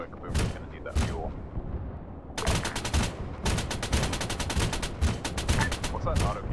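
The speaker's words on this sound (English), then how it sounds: "What's that auto cannon firing?" An autocannon fires in a military video game, rapid sharp bursts crackling in repeated volleys, loud and close, with a short lull before longer strings of shots.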